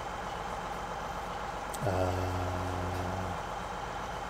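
A combine harvester engine in Farming Simulator 17 starts up partway through and settles into a steady low idle hum over a constant background noise.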